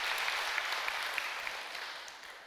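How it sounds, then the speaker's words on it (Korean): Faint, distant applause from guests at a marriage blessing ceremony, a soft continuous patter of clapping that slowly fades. "박수를 올려주시면 고맙겠습니다."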